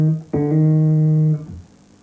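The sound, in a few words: bass guitar hammer-on with second finger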